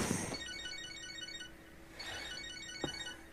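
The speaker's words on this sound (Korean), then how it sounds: "전화 왔구만." A phone ringtone in the video game Catherine chimes in two bursts of repeated bright electronic tones, moderately loud over a low steady background hum.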